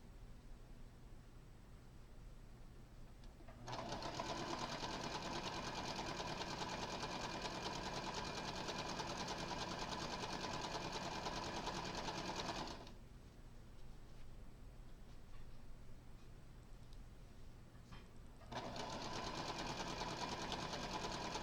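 A sewing machine strip-pieces quilt fabric with a magnetic seam guide, running in two long, steady stretches of close, even whirring separated by a quieter pause, with no voices.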